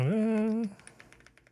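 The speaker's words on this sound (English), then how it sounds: "Typing on his 1985 ANSI compliant keyboard sounds like." A brief sustained tone gives way to a quick run of light, rapid key clicks on a 1985 ANSI-compliant computer keyboard, fairly faint and close.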